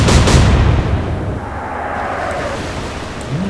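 Naval artillery fire in the video game Atlantic Fleet: a single loud, booming gun blast opening the moment, followed by a long rumbling decay and low distant roar.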